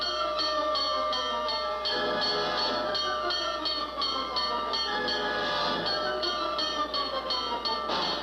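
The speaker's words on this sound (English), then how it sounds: "To the clang of bells and the shriek of sirens, Bill surges forward on his mission of mercy" A train-like clangor from a 1948 film with steady ringing bell tones and harmonic whistle-like tones, loud and continuous throughout.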